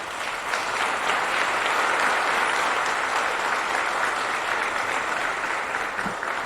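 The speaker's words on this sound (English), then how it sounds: "Please give Robert a round of applause." Sustained audience applause at a Fort Worth police community event, a dense, steady wash of clapping from a large crowd holding at an even level for several seconds.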